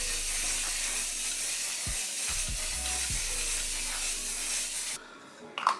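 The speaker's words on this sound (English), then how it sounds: "now we're gonna set with the One Size setting spray" Continuous close hiss of One Size makeup setting spray misting onto a face, a steady broadband spray lasting about five seconds with a few low thumps underneath, then stopping abruptly before a faint small knock.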